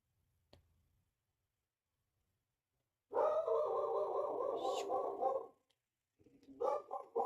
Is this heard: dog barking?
yes